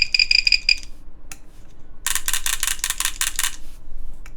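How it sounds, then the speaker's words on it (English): A beeper on a mechanical keyboard circuit board gives a steady two-tone electronic beep near the start, then after a pause a burst of rapid, bright clicking or rattling pulses. "There's a beeper."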